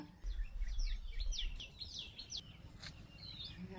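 Birds near a spot where roti has been put out for them, a quick burst of several faint chirps followed by a few scattered calls over quiet outdoor background noise.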